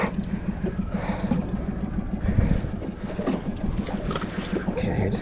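A small boat motors slowly away from a great white shark circling it at sea, its engine a steady low drone under constant wind and water noise.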